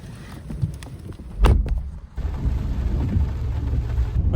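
Rain falls steadily across an open field during seeding in a thunderstorm, with a loud close rumble of thunder about a third of the way through, then a continuing heavy wash of rain and wind.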